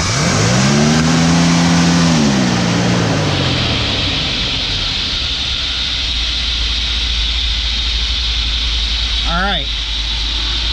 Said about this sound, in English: Step on the gas all the way, and then release it.